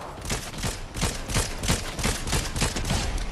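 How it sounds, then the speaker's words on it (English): Video game gunfire in Fortnite: a dense, continuous rattle of rapid shots, loud and close, sustained without pause through the whole short stretch and heard alone. "What the heck is shooting me?"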